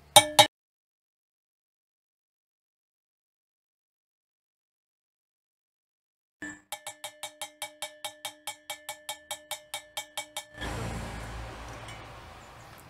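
A steady series of sharp metallic hammer taps rings out close by, about a dozen in even rhythm, as a ball bearing is driven into place on an electric motorcycle, followed by a duller scraping clatter.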